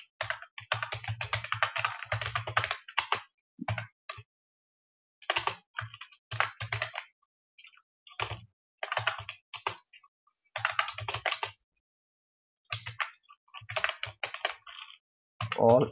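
Computer keyboard typing while writing Qt network-interface code, heard as bursts of rapid close clicks separated by short pauses, with no talk over it.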